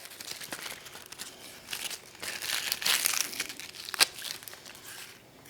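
Papery outer skin peeled off a halved onion with close crinkling and crackling, a sharper snap near the end, no talk.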